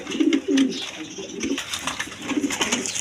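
Pigeons of various breeds cooing at a wholesale pigeon seller's, several low throaty coos in repeated bursts close by over a busy background of chatter and other birds.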